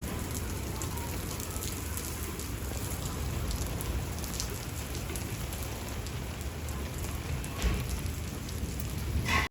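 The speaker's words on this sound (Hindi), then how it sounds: "एकदम से इतनी गरज चमक के साथ जो है ना वो बारिश स्टार्ट हो गई थी।" Steady heavy rain falls throughout, with a dull roll of thunder near the end during a sudden evening storm.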